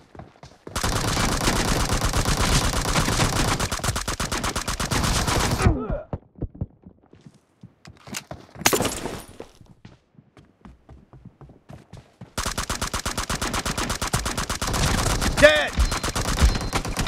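Gunfire in the mobile game PUBG Mobile during a team deathmatch: long loud bursts of rapid automatic fire, a quieter gap with scattered shots and footsteps, then another sustained volley.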